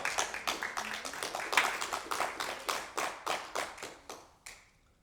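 A church congregation claps in unison during a sermon, about fifteen crisp, evenly spaced claps in a steady rhythm that thins out toward the end, with no talk over it.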